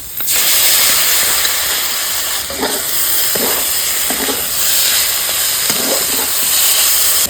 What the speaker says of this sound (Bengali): এখন আমি মশলাটা দেব পোস্ত আর সর্ষে